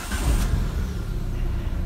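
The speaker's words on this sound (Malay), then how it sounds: "Kemudian kita start engine" A Proton Exora CFE turbo car engine starts and settles into a steady idle, a loud low rumble filling the short stretch.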